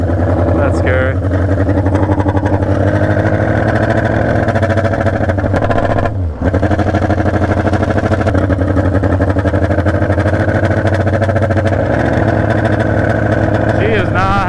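A junkyard Honda CB750F motorcycle engine runs loud and rough close by, a dense continuous roar with one brief dip partway through and a rising blip near the end, voices faintly underneath.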